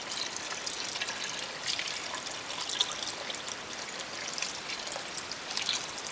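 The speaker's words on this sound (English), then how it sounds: "now we're going to add the 6½ cups of water" Water is poured into a Dutch oven of chickpea and lentil soup, a steady close trickling and splashing stream that carries on evenly without pause or speech.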